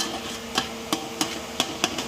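A metal spoon taps and scrapes against a pan while breaking up pieces of mutton brain, giving about seven sharp knocks at an uneven pace over a soft, steady background hiss.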